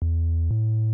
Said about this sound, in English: I added this sub bass, which sounds like this.